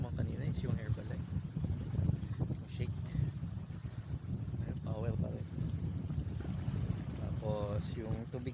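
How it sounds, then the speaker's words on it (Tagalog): Steady wind rushes against the microphone during a bicycle ride on a cloudy day along Singapore's East Side, a constant broadband roar with someone talking over it. "Hangin, tapos malamig."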